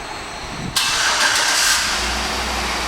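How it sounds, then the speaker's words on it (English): A white 2010 GMC Yukon XL SLT starts by remote start: a brief quiet moment, then a sudden loud crank and catch, after which the engine settles into a steady idle hum nearby. "And the car turns right on."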